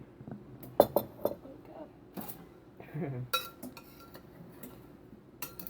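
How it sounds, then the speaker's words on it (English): Buffalo cauliflower bites dressed in hot sauce and melted butter being tossed in a bowl, with scattered close clinks and scrapes of utensils against dishware and a soft shuffling rattle, under light talk. "I might just try to toss it. Give it a little shake."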